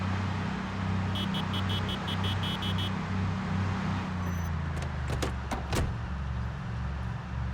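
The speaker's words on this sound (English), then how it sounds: "Let's max out my RPM quickly" A vehicle engine in a video game drones loudly as it is pushed toward maximum RPM, its low hum shifting in pitch, with a few sharp clicks near the end.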